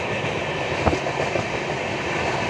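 Moving passenger train in Odisha, India, giving a steady, loud rumble of rolling wheels and carriage noise throughout, with a brief clack near the start and no talk.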